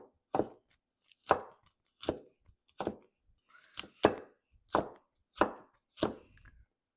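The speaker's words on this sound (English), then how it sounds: "slice them first and then cut them into slices" A knife chopping ingredients for meatball soup on a board, nine distinct, evenly spaced thuds, close and clear with silence between.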